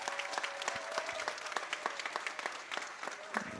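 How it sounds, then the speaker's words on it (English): A round of applause from the audience at a fifth-grade moving-up ceremony, steady moderate clapping with some louder individual claps standing out, continuing throughout. "Let's give her a round of applause."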